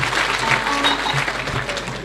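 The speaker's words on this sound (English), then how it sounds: "Clap for UTG" An audience at a University of The Gambia gathering claps together in a dense, steady burst of applause that holds at an even level throughout, with a faint voice mixed in.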